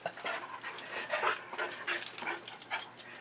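A dog named Shelby pants quickly and lets out soft whimpers and small yips, close to the microphone in a quiet room, with no speech over it.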